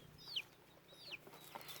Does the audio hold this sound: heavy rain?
no